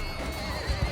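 A horse neighs in the medieval battle game Mount & Blade II: Bannerlord, amid a steady wash of game battle noise, with a couple of low thumps near the end.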